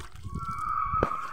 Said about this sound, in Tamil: தண்ணி ஊத்துறேன்